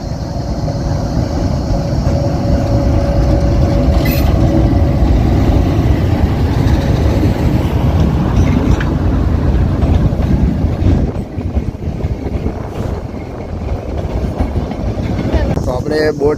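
A passenger train rolls into Sasan Gir station on its rails, a loud, steady rumble with clattering wheels running continuously near the microphone, with wind buffeting it throughout.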